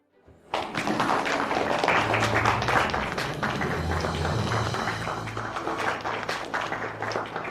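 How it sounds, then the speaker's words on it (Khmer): A wedding audience bursts into loud, sustained applause to welcome the newlyweds, dense clapping rising abruptly and continuing steadily with a low hum beneath. "យើងសូមអបអរសាទរដោយការទះដៃយ៉ាងខ្លាំង"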